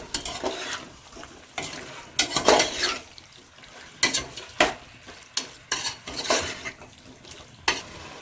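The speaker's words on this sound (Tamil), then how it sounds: "சிக்கனை போட்டு நல்லா கிளறி விடணும்." Chicken is stirred in a hot frying pot for basmati chicken biryani: repeated rhythmic scraping strokes with metal clinks over a continuous sizzle, close and fairly loud.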